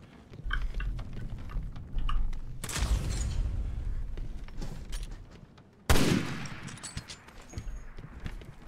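Bursts of gunfire from a newly picked-up weapon in the video game Resident Evil Revelations 2 ring out, with two sharp loud volleys and scattered lighter shots and mechanical clicks between them.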